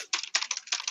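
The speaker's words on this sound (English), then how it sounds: "your keyboard is still so loud" A loud mechanical computer keyboard clatters close up in quick irregular bursts of clicky keystrokes, with short pauses between flurries and no talking.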